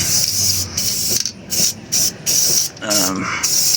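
Rust Tough enamel spray paint hissing onto metal, applied to the welded leaf spring and shackle mounts of a 1999 Ford F150: several close, loud bursts of steady spray, each lasting about half a second, separated by brief pauses.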